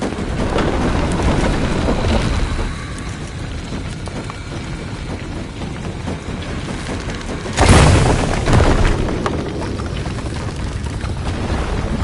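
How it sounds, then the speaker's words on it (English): A deep explosion booms in Shadow of the Tomb Raider, raising a platform, with a loud rumbling burst partway through that follows a steady roar of rushing water or wind and decays into a lingering low rumble. "Another explosion would raise the platform."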